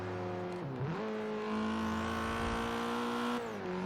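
Mazda Speed3 engine in Forza Horizon 3 revs hard: a brief dip, then a rising high-RPM wail that holds steady and eases off near the end, with barely any turbo noise, loud with no talking.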